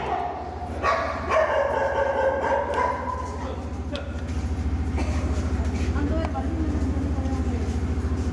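Stray dogs bark and yip several times inside the grounds of Nellai Government Hospital, a busy outdoor space, with a steady low traffic-like rumble and people talking throughout.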